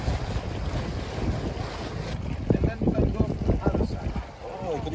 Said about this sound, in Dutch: Ik weet niet in hoeverre je me kan horen met de wind